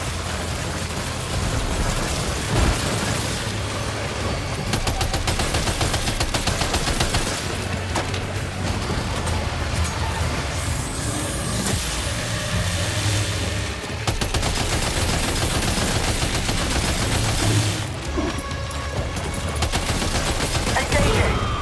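Sustained bursts of automatic gunfire in the Death Stranding 2 video game, dense rapid shots rattling nearly nonstop with brief lulls, backed by a low rumbling game soundtrack.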